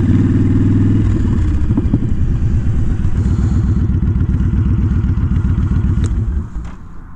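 A motorcycle engine runs loud and close, its rapid throbbing pulse shifting in pitch as it revs, then dropping away near the end; no voices.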